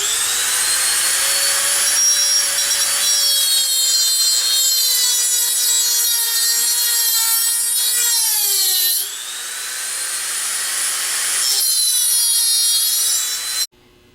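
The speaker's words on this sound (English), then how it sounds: "we have to scribe a line in the width of the side of the bearing" A steady, loud, high-pitched grinding whine as a line is cut into the steel outer race of an alternator's rear bearing. It runs continuously with small pitch shifts, dips briefly, then resumes before stopping abruptly.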